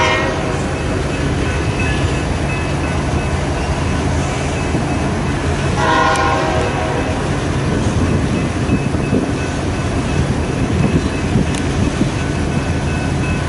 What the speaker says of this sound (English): First train we got today here in Fremont.